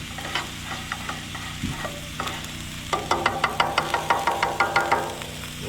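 Spaghetti sauce heating in a pan on a stove at a lake campground, a low steady sizzle and simmer with a series of regular spoon knocks and scraping stirs against the pan in the second half.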